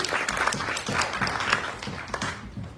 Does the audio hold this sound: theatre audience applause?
yes